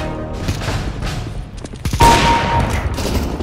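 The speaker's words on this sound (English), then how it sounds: "I love this sniper rifle." Counter-Strike: Global Offensive gunfire around a sniper rifle, with a rapid cluster of sharp shots near two seconds, then a louder crack and ringing tail over steady game background noise.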